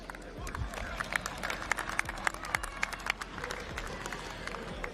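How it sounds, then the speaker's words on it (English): Applause from the crowd at a soccer grand final, South Melbourne against Oakleigh Cannons, with scattered individual claps standing out over a steady wash of crowd noise and some mixed-in voices, heard from a distance in a large open venue. "Let's give them a round of applause."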